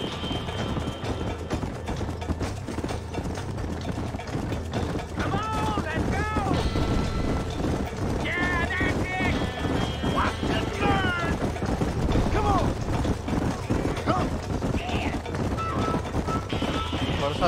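Horse hooves galloping in a Red Dead Redemption horse race on PC, a steady rhythmic clatter under continuous game music and ambience, with talk heard over it throughout.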